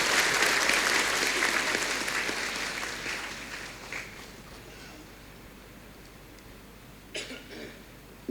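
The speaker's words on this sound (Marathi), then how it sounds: "आपण टाळ्या वाजवून त्यांचं स्वागत करूया." Applause welcoming a priest at a church festival Mass, fairly loud at first and then thinning out over several seconds, with a cough or two and a brief burst of renewed clapping near the end.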